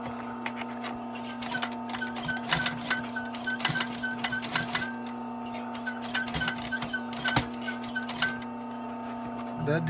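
A sewing machine not built for heavy work stitches thick leather on a vintage briefcase, with a steady mechanical hum and rapid needle clatter running throughout, close and fairly loud.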